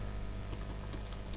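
Typing on a computer keyboard during a Selenium C# coding session, with faint scattered key clicks over a steady low hum; no one talks.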